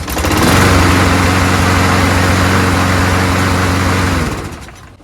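A Craftsman EZ Walk self-propelled lawn mower with a Briggs Quantum auto-choke engine runs steadily and loudly up close with a buzzing, even drone, then cuts off and winds down near the end.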